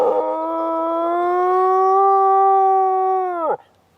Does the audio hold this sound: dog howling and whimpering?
yes